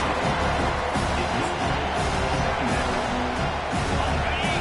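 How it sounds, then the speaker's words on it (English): Dense stadium crowd noise from a college football video game, Tennessee against Alabama, swelling steadily as the offense nears the red zone, a broad continuous roar with no voices standing out. "This crowd rising up,"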